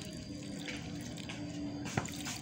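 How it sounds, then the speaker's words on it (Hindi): Water pouring into a dough mix with kasuri methi in a Punjab village kitchen, a steady close splashing rush with a brief louder splash near the end. "ठीक है, अब हम इसमें पानी डालेंगे।"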